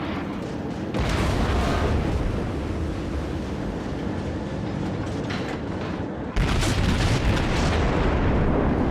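Naval gunfire in the World of Warships game from the cruiser New Orleans, with deep booming shots over a continuous loud rumble of engine and sea noise, a heavy burst at the start and another surge near the end.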